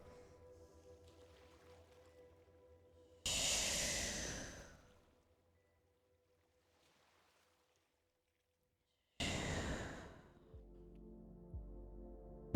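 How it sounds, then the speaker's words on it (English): Two slow, deep breaths, each a long airy whoosh lasting over a second, separated by a silent pause, close to the listener and heard alone. "Breathing in, breathing out"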